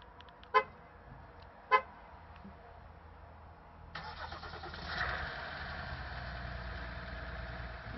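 Ram 1500 Laramie EcoDiesel truck at -2C, two short horn chirps from remote start followed by the diesel cranking to life and settling into a steady idle.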